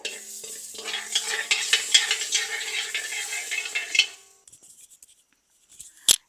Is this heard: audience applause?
no